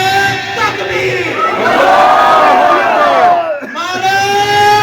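A large crowd at a religious gathering chants back a loud, drawn-out unison reply to the Takbir slogan, swelling and then briefly dipping before rising again, with the massed voices near and powerful.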